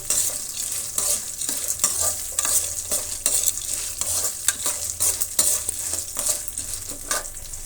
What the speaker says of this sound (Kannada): ಕಡಲೆ ಬೀಜ ದಬ್ಬೆ ಮಾಡಿರೋದನ್ನು ಹಾಕ್ತಾ ಇದ್ದೀನಿ. ಇಷ್ಟೂ ಫ್ರೈ ಆಗಲಿ.